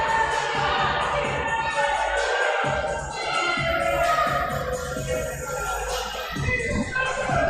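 Crowd gathered at a PPW pro wrestling show in Slatington, a dense roar of voices and cheering with scattered shouts, loud and sustained with brief dips, and talk mixed in.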